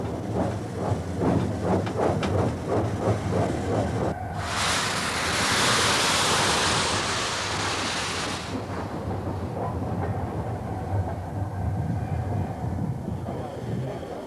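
Steam locomotive Mallard leaving her shed, a rhythmic chuffing exhaust beat with hissing, interrupted midway by a loud, sustained burst of steam blowing off before the chuffing continues.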